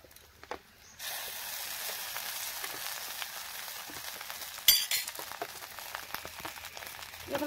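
Batter and egg sizzle in a hot pan for egg chitla pitha, a steady close frying hiss that starts abruptly after a quiet second, with one brief clink of a utensil midway.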